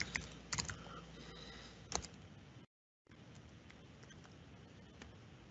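Fast typing on a computer keyboard close by, clustered clicks and taps in short bursts, then a brief dropout and a quieter continued patter.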